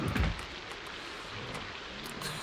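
Heavy rain falls in the Project Zomboid game as a steady, dense hiss, with a soft thump at the start and no voices.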